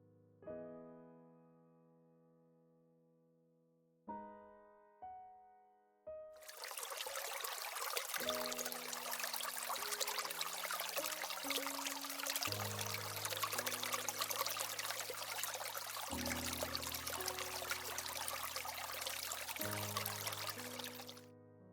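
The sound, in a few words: water flowing over moss-covered rocks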